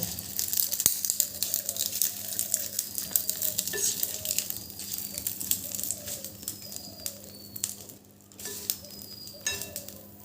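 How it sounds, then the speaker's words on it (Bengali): Onion peels roasting and sizzling in a pan, a soft continuous crackle with scraping stirs, while birds and cooing pigeons call clearly nearby. "তার সাথে কিন্তু পেঁয়াজের খোসাগুলো পুড়ে যাচ্ছে বন্ধুরা"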